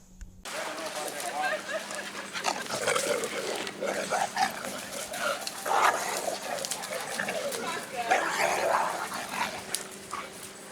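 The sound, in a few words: dog growling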